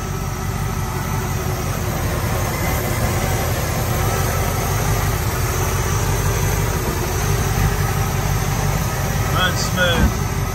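A 1967 Camaro convertible idles with a steady, even low rumble that holds constant throughout, close and fairly loud, with someone talking over it briefly near the end.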